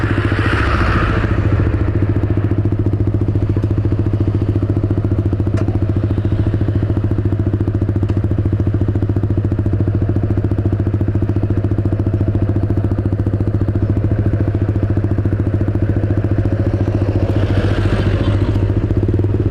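Several motorcycle engines rumble loudly and steadily nearby, with revving swells at the start and end as bikes pull away, amid street clatter.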